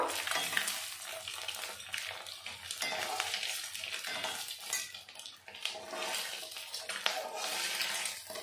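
Eggs frying lightly in mustard oil in a pan: a steady bright sizzle with soft clatters of a utensil against the pan, close and continuous.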